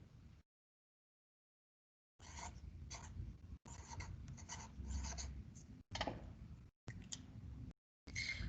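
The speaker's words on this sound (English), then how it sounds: "I'm going to colour Poland in green here. I'm just going to colour it roughly." A pencil rubs quickly back and forth across paper while roughly colouring in a country on a map, in several close, steady scratching bursts broken by short silent pauses.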